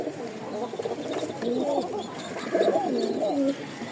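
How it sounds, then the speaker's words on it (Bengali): A male Bashiraj pigeon coos close by, a few soft rolling warbling phrases repeated over a low background hum. "ককা ডাকতেছে"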